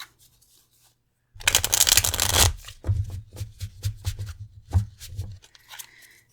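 Tarot cards shuffled by hand in a close, quiet room: a burst of rapid riffling followed by a run of crisp, regular card slaps and flicks, with no one talking.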